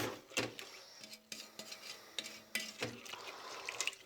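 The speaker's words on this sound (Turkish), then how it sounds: "Topak topak olmaması için bunu sürekli karıştırıyoruz" A spoon scraping and knocking around a pot while semolina halva is stirred, several clinks and scrapes spread irregularly across the moment, fairly quiet with some background hiss.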